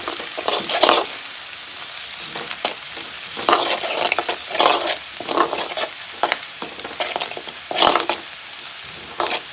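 Chopped lovi-lovi fruit pickle ingredients sizzle loudly in a pan at close range, broken by repeated scraping stir strokes in an uneven rhythm, with no talking.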